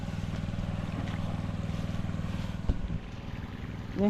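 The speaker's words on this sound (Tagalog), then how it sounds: "Yung diesel umaandar na rin." A diesel engine running for irrigation pumping, a steady low rumbling drone with a regular throb, heard close with some wind noise over it and a brief knock near the end.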